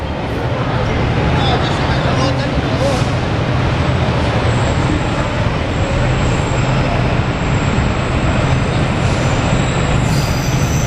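A freight train with a steam locomotive passes close by, giving a loud, continuous rolling rumble of wagons and wheels that holds steady from start to finish.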